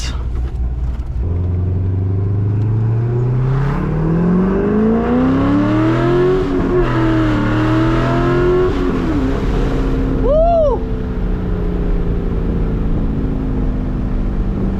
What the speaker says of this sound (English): it's been a while since I've done a first gear pull in this car